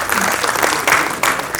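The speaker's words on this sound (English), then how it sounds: "Please, round of applause." A brief, dense burst of audience clapping greets a panelist at a panel discussion, loud and continuous with a few heavier surges over under two seconds.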